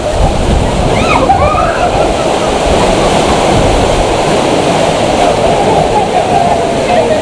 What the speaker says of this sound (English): Nice little water effect coming up.